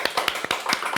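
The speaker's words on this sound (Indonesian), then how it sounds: "Tepuk tangan dulu dong" Audience clapping at an inclusive coffee talk event, a short burst of close, sharp individual claps in an uneven rhythm, loud and distinct.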